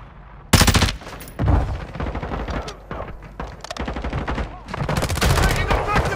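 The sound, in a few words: gunfire in the DMZ video game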